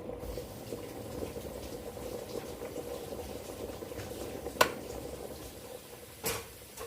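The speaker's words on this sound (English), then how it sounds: "I'm gonna do a quick rinse." Running water for a quick rinse of a cutting board or dishes after onions, a steady close hiss of flow in a home kitchen with two brief clatters of items against the sink.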